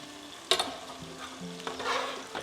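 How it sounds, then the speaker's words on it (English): Food frying in a pot for a simple pasta dish, with a soft steady sizzle broken by a sharp clatter of ingredients dropping in and a spoon stirring, close by. "In they go, give them a stir"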